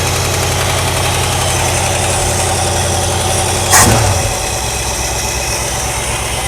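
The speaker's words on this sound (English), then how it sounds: "That's a reasonable idle." A 1963 Ford Galaxie engine idles steadily with a low, even rumble throughout, briefly disturbed by a short louder burst near the middle before settling back to the same idle.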